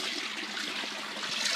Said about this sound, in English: water pump with a T-junction and a valve on there to regulate the flow of water going out of the pond into 200 litre